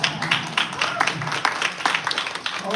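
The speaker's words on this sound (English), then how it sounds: "I'm gonna applaud." One person clapping at a live expo talk in Los Angeles, a fairly steady run of close, sharp claps for a few seconds over a faint room murmur.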